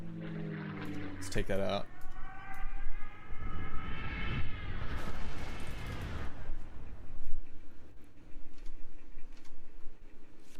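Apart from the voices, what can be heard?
dive bomber aircraft sound effect in the video game Kards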